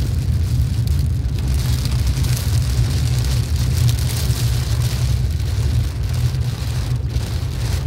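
Steady, dense rain hiss fills the scene continuously in Dubai, with a low rumbling wash of traffic underneath, like cars passing on wet road.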